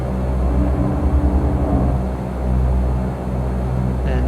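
Simulated light aircraft engine in X-Plane 11 as the throttle is advanced, a steady low droning hum that rises and surges in pulses, fairly loud and with no talk over it.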